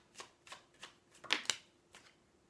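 Tarot cards being shuffled and drawn during a reading: a series of soft, papery riffles and flicks, with two sharper, brighter snaps near the middle, close and fairly quiet, with no talking.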